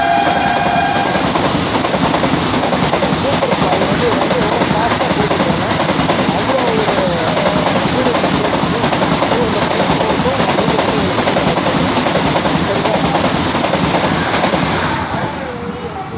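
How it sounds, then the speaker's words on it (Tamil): A fast express train roars past close by near Virudhachalam, India, a loud continuous rush with rhythmic clattering of wheels and a horn sounding early, fading slightly at the end. "செம்ம ஃபாஸ்ட்டு ட்ரெயின்."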